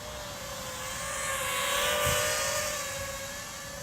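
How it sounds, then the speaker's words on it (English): SimToo Moment drone making an outdoor flyby: a thin, steady high motor whine swells gently as it passes closest, then eases off, moderately near with no talking. "I'm just going to lower it down a bit and do a bit of a flyby actually"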